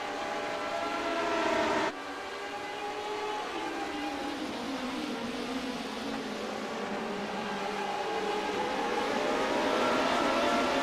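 Several race cars scream around the Daytona road course in iRacing's Lotus 79 series, a continuous loud layered engine whine with shifting pitches as the pack runs close together, an abrupt shift near two seconds, no talk.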